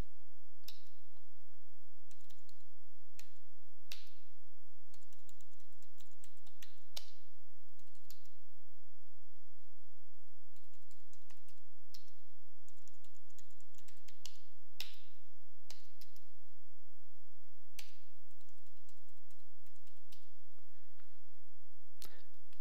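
Personal details typed on a computer keyboard, with scattered individual key clicks and short bursts of taps spread over a long stretch, close and clear above a steady low electrical hum.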